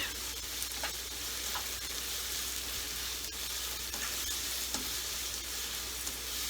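Grilled brinjal mash with onion sizzles steadily in mustard oil in a pan, a soft continuous crackle with occasional stirring scrapes and no talk.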